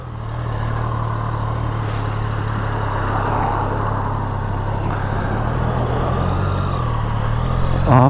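A 2024 Triumph Daytona 660 pulls away in sport mode, its engine note building from idle into a steady, close drone that grows slightly louder toward the end, with no speech over it.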